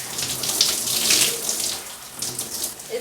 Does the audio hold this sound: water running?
yes